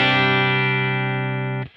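An electric guitar running straight into a Bad Cat amplifier sounds one long chord that sustains with a gritty, driven tone, then cuts off abruptly near the end, heard alone without speech.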